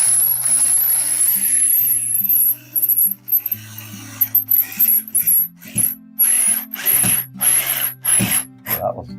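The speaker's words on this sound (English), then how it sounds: "putting flathead screws on these wall plates" Flathead screws being driven into wall plates with a ratcheting hand tool, giving repeated clicking ratchet bursts in an irregular rhythm, close and fairly loud, with a steady hum underneath and no speech.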